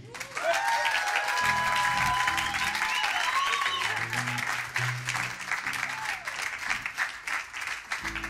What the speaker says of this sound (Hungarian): Színpadra szólítom, és egy nagy tapsra fogadjuk.